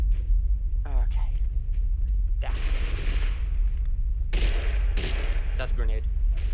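A grenade detonates in TABG amid loud, rapid gunfire and bursts, with heavy blasts around the middle and end of a chaotic firefight while a voice talks over the action.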